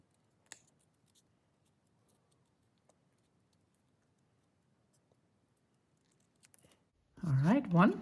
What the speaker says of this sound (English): So now I'm just gonna cut them out.